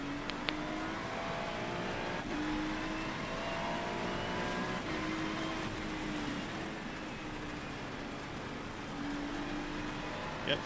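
Ferrari 296 GT3 race car engine in the iRacing sim, racing at CTMP (Mosport) in the rain, a steady droning hum with rising and falling pitch as the car shifts and accelerates, continuous and moderately loud throughout.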